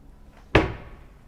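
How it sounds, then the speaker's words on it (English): Cabinet door on a Hettich Sensys hinge without soft-close shuts with a single sharp slam, a sudden loud knock followed by a short ringing decay, alone in a quiet room. "Down here we have a door without soft closing"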